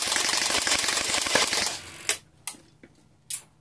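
An A&K M249 airsoft support gun fires a fast burst of roughly twenty rounds per second, a close, rapid mechanical rattle lasting under two seconds, then a few separate clicks.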